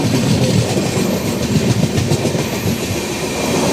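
Sabari Superfast Express, the Trivandrum to Secunderabad train, runs steadily on the rails with a loud, continuous rumble and rapid clickety-clack of the wheels, close by and with no voices.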